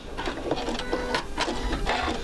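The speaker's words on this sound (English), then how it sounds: "sew the last of that bias nice and flat, meeting up with my beginning stitch" A sewing machine stitches bias binding flat onto a quilt, running as a steady, close mechanical whir with a rhythmic rattle throughout.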